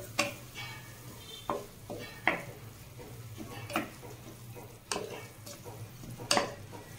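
Mutton being stirred with a spice mix in a pan, with scattered scraping strokes of a utensil against the metal at an irregular pace over a faint low sizzle, close and fairly quiet.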